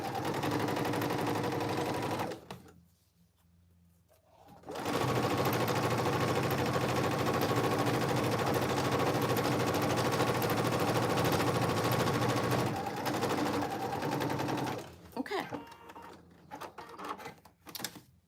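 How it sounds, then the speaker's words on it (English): A sewing machine top stitches cargo pants in long, steady, close rattling runs, pausing briefly for a couple of seconds, then running on before ending in short bursts, with no talking over it. "I'm just going to top stitch that"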